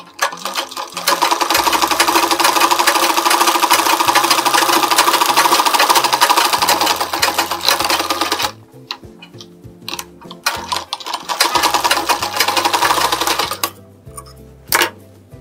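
A sewing machine stitches a lined blouse in fast, loud mechanical runs of needle clatter, pausing briefly near the end before a few shorter bursts.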